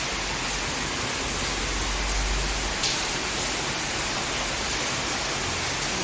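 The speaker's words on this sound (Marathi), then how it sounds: "बदा बदा बदा बदा पाऊस येऊन राहिलेला आहे" Heavy rain pours down outdoors in a loud, unbroken wash of noise that stays level throughout, with no voices over it.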